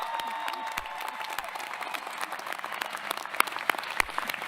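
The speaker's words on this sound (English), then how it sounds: "Can I ask for a round of applause for our readers?" A graduation hooding ceremony audience claps for its readers, with dense, steady applause from a sizable crowd and a few sharper nearby claps.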